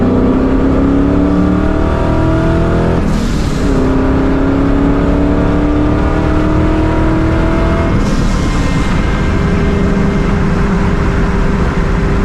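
A supercharged 4.6 New Edge Mustang GT accelerates hard, its engine roaring up through the revs with two sharp breaks at gear changes. The sound is loud and close, with no voices.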